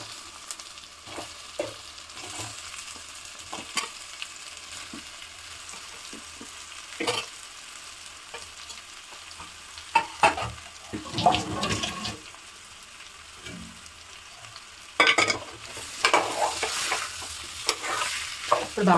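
Boiled potatoes fry in oil with mint for aloo kurma, giving a soft steady sizzle under occasional stirring scrapes, with louder bursts of spluttering and mixing partway through and near the end.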